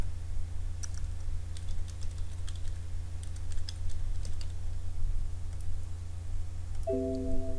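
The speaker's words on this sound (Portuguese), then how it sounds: "Vou digitar o nome." Soft keystrokes tapped on a computer keyboard while a name is entered, irregular light clicks over a steady low hum, with a brief electronic tone near the end.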